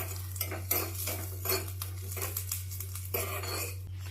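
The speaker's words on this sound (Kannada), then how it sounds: "ಈಗ ಲೈಟಾಗಿ ಕಂದು ಬಣ್ಣ ಬರೋವರೆಗೂ ಹುರ್ಕೊಳ್ಳೋಣ ಮೆಣಸಿನ್ಕಾಯಿ ಬೆಳ್ಳುಳ್ಳಿನ" Red chillies, garlic and curry leaves roasting in a pan while being stirred for a round cucumber chutney, with repeated metal scrapes and clinks of the spoon against the pan over a steady low hum and a faint sizzle.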